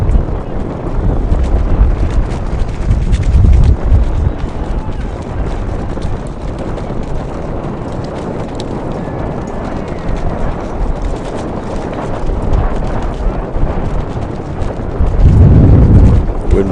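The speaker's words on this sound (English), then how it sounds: "Wind blowing in the face of the Lions goalkeeper, Eric Aparicio." Wind gusts across an outdoor soccer field during a match, a steady broadband rumble buffeting the microphone with louder low surges near the start and end, under occasional voices.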